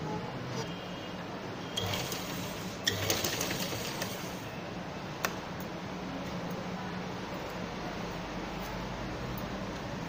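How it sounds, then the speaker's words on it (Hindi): A sewing machine stitches piping along the edge of a baby's winter dress, a continuous close mechanical whir with occasional clicks and knocks, no voices over it. "अब एंड की सिलाई बिल्कुल एंड तक आ गई है"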